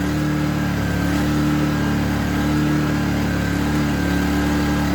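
Scheppach SE2500I inverter generator running under a 1 kW load, a steady, loud, close mechanical engine hum with no change in pitch and no talk.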